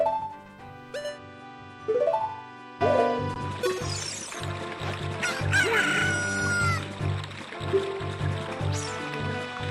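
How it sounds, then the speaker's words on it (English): A cucco chicken in The Legend of Zelda: Ocarina of Time clucks and crows in short game-sound bursts over a layer of looping game music, loud and up front. "use this chicken that we were given. They're actually cuckoos"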